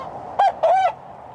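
A hen squawks twice while being handled, a short harsh call followed by a longer, drawn-out one, loud and close with no talking.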